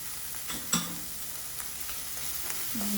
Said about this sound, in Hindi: सबको आप अच्छे से स्टर फ्राई कर लें